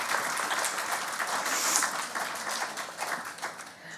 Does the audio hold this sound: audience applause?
yes